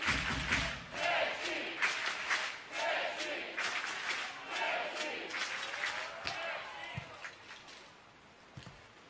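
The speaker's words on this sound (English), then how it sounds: "again the crowd" At a beach volleyball match in Ostrava, Czech Republic, the crowd cheers in repeated rhythmic chants that rise and fall in waves before fading toward the end.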